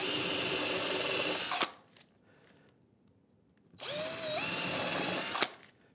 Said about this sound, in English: I'm going to drill through here.